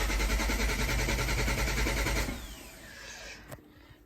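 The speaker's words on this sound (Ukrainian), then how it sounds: "Ось так вона не запускається." An Opel Zafira B engine with a faulty engine control unit cranks steadily with a rapid rhythmic churn for about two seconds, then stops without catching, leaving quiet background noise.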